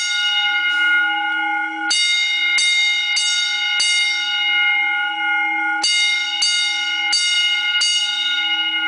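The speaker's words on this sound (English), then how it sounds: "it should start ringing these bells." Autocall fire alarm bells ring loud and steady in an elementary school, a sustained metallic clang broken by a few brief pauses and restarts.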